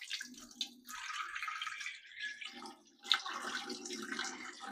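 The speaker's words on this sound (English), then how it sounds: "And now I'm going to put my water." Water poured into sourdough dough made with fresh milled flour, a close trickling splash in two bursts with a brief pause between, fairly quiet with no talking.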